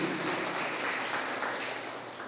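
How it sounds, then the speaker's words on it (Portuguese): A church congregation at a conference service applauds steadily, a dense wash of many hands clapping at moderate distance, sustained evenly for a couple of seconds without talk. "Aplauda o Senhor Jesus."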